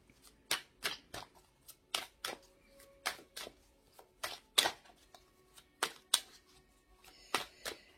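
Oracle cards are handled and shuffled close by in a quiet room, a steady series of crisp snapping and flicking bursts about every half second, with no talking.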